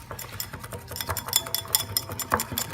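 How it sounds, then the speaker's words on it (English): A sauce being whisked in a bowl with a busy run of quick scraping, tapping strokes, close and fairly steady throughout, with faint clinks of utensils. "So we got Hung whisking the sauce right now, fusing the flavors."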